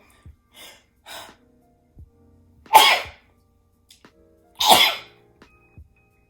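Two sharp, close sneezes about two seconds apart, with soft breaths and small mouth noises between them in an otherwise quiet room.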